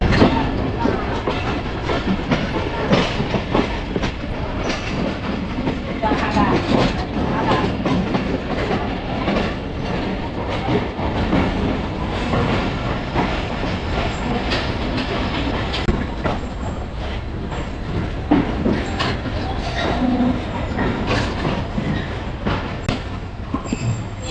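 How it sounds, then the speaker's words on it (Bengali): A train rolls into Rajshahi railway station in Bangladesh, with continuous loud rumbling and rhythmic wheel clatter heard from on board, steady throughout with faint voices in the background. "তো সামনে হলো রাজশাহী রেলওয়ে স্টেশন।"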